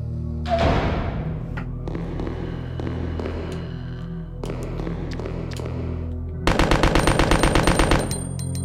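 Submachine gun fire in Resident Evil 2, with short bursts and single shots through the first part, then a loud, rapid sustained burst near the end over a low ambient hum.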